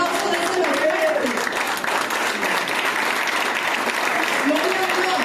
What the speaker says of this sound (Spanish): Si le va a dar el aplauso de ese fuerte.